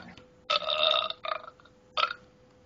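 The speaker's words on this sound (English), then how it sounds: "that burp honestly sounds like you burping" A loud, close burp sound effect: one long drawn-out belch followed by two shorter burps, over quiet background.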